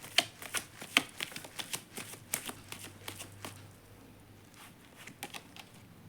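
Tarot cards being shuffled and drawn during a Taurus horoscope reading, giving a run of quick papery riffles and soft taps that fade into lighter, sparser card snaps, close and fairly quiet with no talking.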